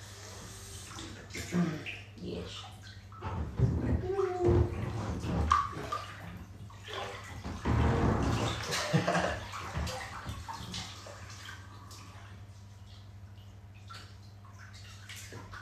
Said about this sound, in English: Do you want me to put a bit more water quick, or do you want me to end it soon?